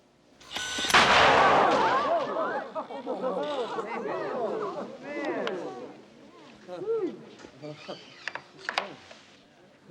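A single loud gunshot cracks out during a class demonstration of a gun, then several people talk over its fading echo.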